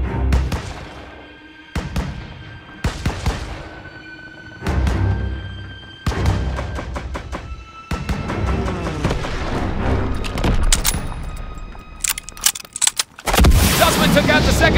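Bursts of gunfire and booming blasts from a World War II battle in the Call of Duty: WWII Stronghold mission, loud and dense, coming in repeated volleys with heavier explosive hits near the end, as voices shout commands over the combat.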